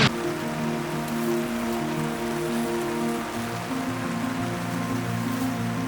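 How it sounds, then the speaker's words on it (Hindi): Steady rain patters on a surface with a constant hiss during a mountain trek to Shrikhand Mahadev, while a low droning hum runs underneath; no one speaks. "आधा घंटे पहले बारिश शुरू हुई"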